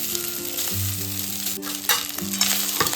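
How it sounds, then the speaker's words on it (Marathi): Leftover rice with peanuts and turmeric sautés in a pan, a steady close sizzle broken by scraping stirs and spoon taps against the metal. "हे सगळं मस्त असं परतून घ्यायचं आहे आता आपल्याला।"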